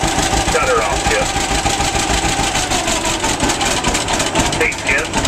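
A John Deere G tractor idles at a farm sale auction, its engine chugging steadily and close, with people talking over the running engine.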